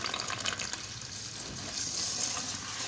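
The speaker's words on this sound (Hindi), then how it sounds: "पानी डालना है हमने इसमें" Water pours from a tap into rice being washed, a soft continuous splashing and gurgling fill that swells slightly toward the end.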